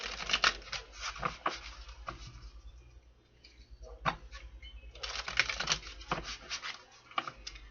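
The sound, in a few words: shuffling tarot cards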